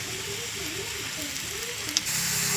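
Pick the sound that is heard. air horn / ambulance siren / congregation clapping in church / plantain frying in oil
plantain frying in oil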